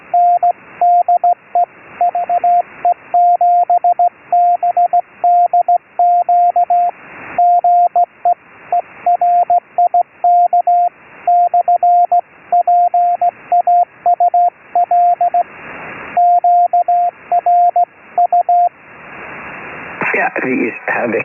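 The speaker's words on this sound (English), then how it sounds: "So, okay, there was a CW station in there as well." A CW Morse code signal is received on an amateur radio net on the 3729 kHz band. A steady tone keys on and off in rapid dots and dashes over a hissy band-limited receiver background, loud and continuous, fading into static at the end.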